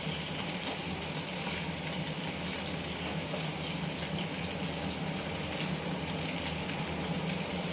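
Thin pieces of katla fish frying in a pan of oil for a light curry, a steady dense sizzle and crackle continuing evenly at close range with no talking.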